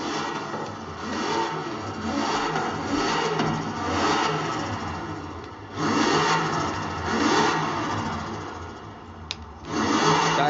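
A Chevrolet Corvette Z06 engine in Forza Horizon 4 revs repeatedly in the game, with rising and falling surges of engine roar separated by short dips, no voices.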